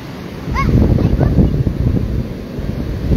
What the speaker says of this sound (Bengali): এখন প্রচুর বাতাস প্রচুর বাতাস